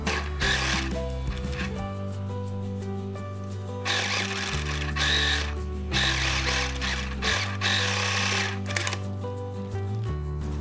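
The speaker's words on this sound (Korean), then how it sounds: "이 테두리를 따라 3면을 봉제를 해주세요." Sewing machine stitching a denim pinafore dress, running in repeated bursts with short pauses between, a steady mechanical whir and clatter heard close up.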